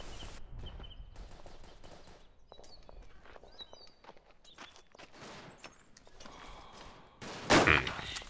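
Rifle fire in the World War I shooter Verdun, scattered faint cracks and footsteps across a quiet battlefield, then one loud, close blast near the end.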